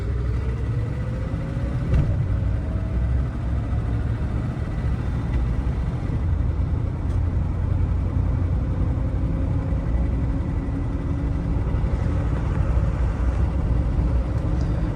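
A 1966 Mercedes 600 W100 engine hums and rumbles steadily while driving, with road noise and a faint rising whine as it moves through gears.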